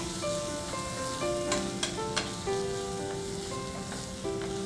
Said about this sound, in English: You'll know when the oil is nice and hot when you get this sizzling sound.